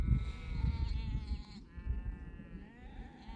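Several sheep bleat in overlapping, wavering cries, fairly close, over a low rumbling background of wind or handling noise.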